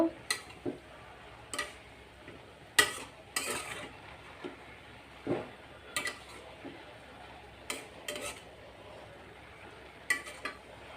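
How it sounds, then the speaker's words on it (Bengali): Jute leaves (pat shak) being turned over in a pan, a series of sharp intermittent spatula clicks and scrapes against the metal over a quiet background. "এই যে পাট শাকটাকে এখন আমি নাড়বো, উল্টিয়ে পাল্টিয়ে নেড়ে পাট শাকটাকে সিদ্ধ করে নিব"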